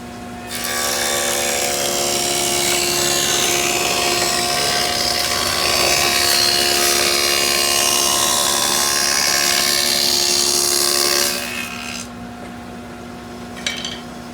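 A table saw cuts a dado in wood with a loud, continuous whining buzz for about eleven seconds, then spins down. A brief knock follows near the end, with no talking.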